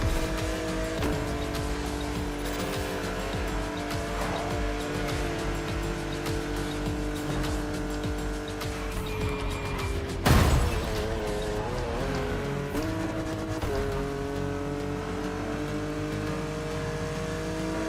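Porsche 911 GT3 Cup race car in The Crew Motorfest, engine droning steadily with shifting revs, a sharp louder burst near the middle, then a settled hum alongside constant game music.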